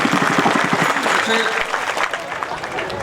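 Audience applause welcoming guests at a Marathi religious gathering honoring Mahant Laxman Maharaj Mengade, dense steady clapping from a crowd with voices mixed in throughout.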